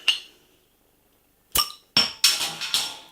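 Beer bottle cap popped off an imperial brown ale, followed by a quick series of bright glassy clinks as the bottle meets a glass; sharp, close, short hits with brief silence between.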